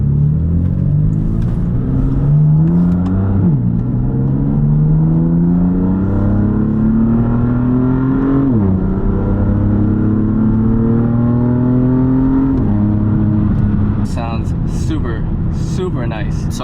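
A BMW M3 fitted with an Active Autowerke single mid pipe exhaust, heard from inside while driving: a loud engine note climbs repeatedly through the gears, each rising pull dropping at a shift, with rumbly exhaust underneath.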